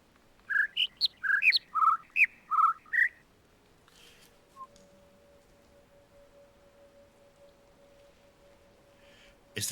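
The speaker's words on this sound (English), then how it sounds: "We're listening to the bird song to give us the answers to the puzzle" A short bird song phrase from the video game The Witness: about eight clear, whistled chirps at varying pitches in a quick run, followed by near silence and a faint, steady tone.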